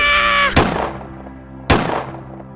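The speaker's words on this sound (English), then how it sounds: "Gunshots come from the octopod." Two sharp, loud gunshots about a second apart, each with a short echoing tail, after a brief tonal sound at the start.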